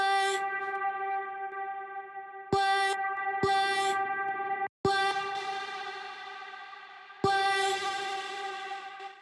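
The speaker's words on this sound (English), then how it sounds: "It's not even a delay throw, it's more of a reverb throw" Studio mix of a song with a reverb throw on the vocal: sustained tonal synth-like chords cut off abruptly several times, with washy echoing tails and a brief dropout before returning.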